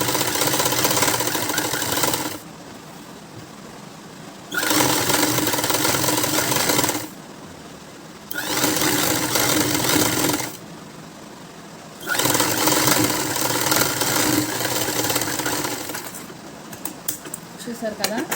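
A sewing machine stitches a seam on a child's frock made from a one-metre blouse piece, running in four loud, steady bursts with short pauses between them.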